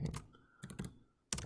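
Computer keyboard typing as a name is entered into a task assignment field, heard as three short bursts of clicky keystrokes separated by brief pauses, close and fairly quiet with no talk.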